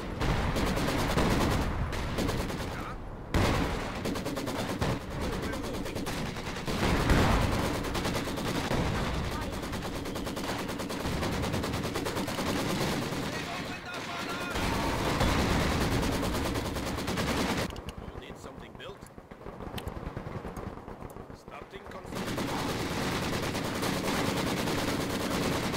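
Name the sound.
artillery barrage in Company of Heroes 2 video game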